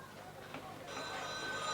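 A telephone rings faintly in the background at an over-30s Gaelic football final in Leitrim in 1985, its tone half buried under a steady crowd murmur and commentary.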